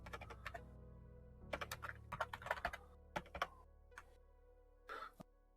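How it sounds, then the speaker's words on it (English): Fingers type on a computer keyboard nearby, quiet, irregular clusters of key clicks with short pauses between bursts, over a low steady background hum. "I really cannot type today."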